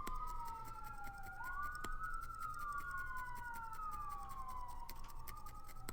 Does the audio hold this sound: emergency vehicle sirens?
yes